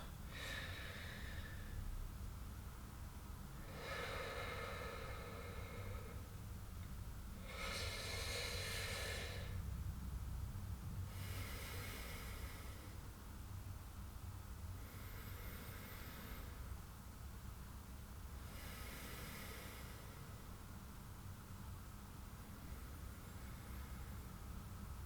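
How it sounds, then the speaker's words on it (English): Slow, deep breaths during a rest between push-ups in a workout, five drawn-out breathy bursts spaced evenly over a steady low hum of background noise, fairly close and soft. "just do some breathing"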